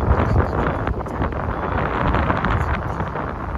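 Steady wind in Fremantle buffets the microphone with a low, rumbling roar throughout, gusting slightly but never letting up.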